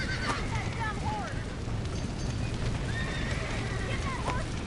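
A horse in the Western video game Red Dead whinnies repeatedly over clip-clopping hooves while someone shouts orders, with game effects and ambience around them.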